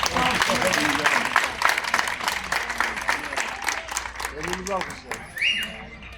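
A large crowd at a municipal meeting applauds steadily with dense, continuous clapping, fading somewhat near the end while voices rise underneath.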